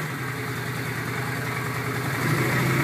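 A motorcycle engine idles steadily with the throttle held by a brake-away throttle lock, a continuous close, even hum with no talk.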